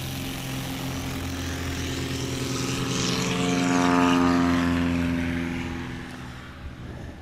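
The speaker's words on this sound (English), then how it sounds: "Here's John Douglas now on the roll in the tricycle gear aircraft." A Cessna 182 tricycle-gear plane takes off from a grass runway at a STOL competition in Ontario, Oregon. Its propeller engine drones loudly and steadily, swelling as it passes closest, then easing slightly as it pulls away.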